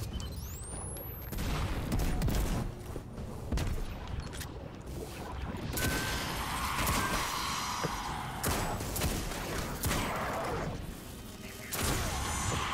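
Bursts of gunfire in Destiny 2 crack and boom in irregular clusters, some sharp shots and rattling volleys against a busy game soundscape, at moderate loudness.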